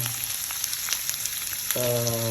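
Corn kernels fry in a hot pan, a steady close sizzle and crackle with a brief low hum coming in near the end.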